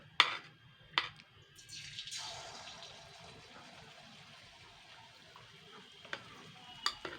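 Batter-coated eggs dropped into hot oil give a faint, steady sizzle, with a few sharp clinks and taps at the start and near the end.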